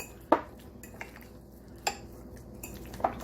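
Pesto chicken mixture being stirred in a bowl, quiet scraping with a few distinct clinks of a utensil against the bowl spaced through the stretch, close and fairly soft.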